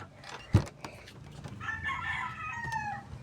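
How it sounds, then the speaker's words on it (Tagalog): A rooster crows at a rural house in the Philippines, a drawn-out cock-a-doodle-doo rising over faint background clucking and a sharp knock near the start, heard at moderate distance. "Ayan yung manok."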